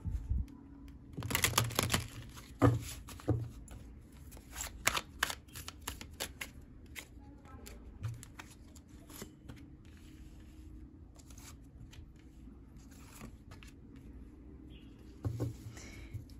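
Tarot cards are shuffled in a few quick flurries of crisp riffling and snapping, with quieter handling and soft clicks in between.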